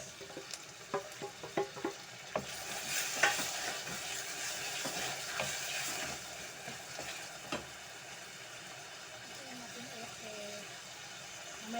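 Tomatoes sautéing in a pan, a soft steady sizzle with scraping and clinking of a utensil stirring, fairly quiet and close.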